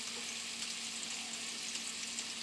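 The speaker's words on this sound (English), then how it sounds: "You hear it sizzling on against that black iron skillet." Hamburger steak patties sizzle steadily in a hot black iron skillet, a constant close crackling hiss with a faint underlying hum and no talking.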